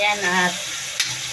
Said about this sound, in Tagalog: Lutuin lang natin ang ating kamatis.